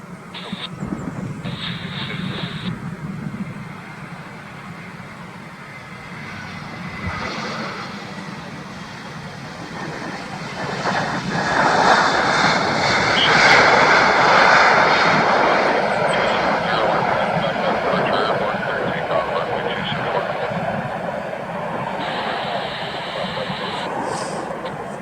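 Jet airliners at Vancouver YVR airport in the early morning, a continuous loud engine roar that swells past the midpoint as a plane passes close, with distant background rumble throughout.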